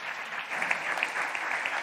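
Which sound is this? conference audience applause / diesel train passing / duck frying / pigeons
conference audience applause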